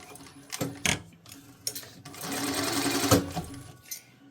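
A sewing machine stitches the edges of an accordion wallet in short bursts, its motor whirring between brief pauses and one longer steady run, close and clear with no talking.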